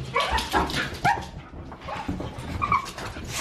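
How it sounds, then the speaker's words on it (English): Dogs bark repeatedly at a door, sharp overlapping barks and yips with some whimpering, loud and close throughout. "Let's see if we can actually get in this door without the dogs barking."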